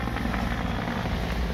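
A steady low rumble of a Coast Guard search helicopter, continuous and fairly loud, with no voices.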